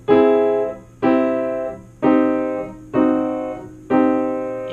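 Five piano chords, major, augmented, minor and diminished triads, struck one after another at a steady pace, each ringing and decaying before the next, played alone.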